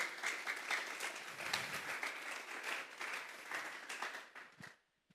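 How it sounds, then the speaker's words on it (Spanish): Church congregation applause after a sermon on addiction to sin, a broad, steady roar of clapping that holds level for several seconds, then tapers off and stops near the end. "Vamos a darle un fuerte aplauso pues al Señor."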